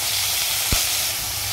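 Asafoetida dropped into hot oil for a Bengali potato dal gives a steady, bright sizzle with a brief low thump partway through.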